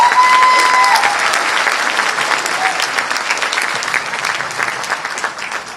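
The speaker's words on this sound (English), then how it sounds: "So let's give a big round of applause to Shop Up." Audience at the Bangladesh Investment Summit 2025 breaks into sustained applause, a dense wash of many hands clapping that stays loud throughout and eases slightly toward the end, with faint voices mixed into the crowd.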